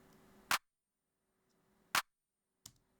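Three sharp, bright clap hits from a trap drum sample, spaced irregularly across a quiet background, each short and snappy with a crisp noisy snap and a soft low hum underneath.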